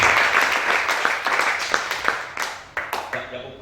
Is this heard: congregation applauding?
yes